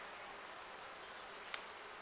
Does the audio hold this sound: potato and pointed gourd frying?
no